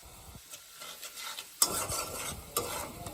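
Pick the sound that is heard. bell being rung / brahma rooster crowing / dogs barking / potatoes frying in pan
potatoes frying in pan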